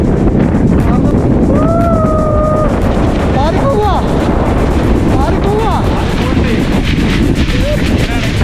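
Strong monsoon wind buffets the microphone in a steady, loud broadband roar on the trail to Harihar fort, while people talk and call out over it.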